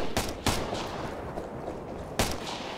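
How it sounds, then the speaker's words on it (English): Loud, sharp gunshots in the video game Operation Flashpoint: Red River: two quick cracks close together, a pause, then another shot, with no one talking. "We're getting shot at!"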